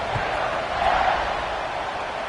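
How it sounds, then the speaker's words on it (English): Steady, loud stadium crowd roar in College Football 25 at a BYU game before a kickoff, a broad continuous wash of cheering with a slight swell midway and no clear voices standing out. "this crowd now ready to get behind them"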